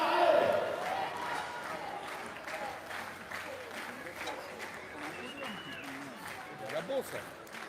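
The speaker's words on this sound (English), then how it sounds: "the crowd now absolutely screaming Emma's name" A crowd cheers and claps at a women's bike trials World Cup final, loud at first and then settling into steady applause and shouts, with a commentator talking over it.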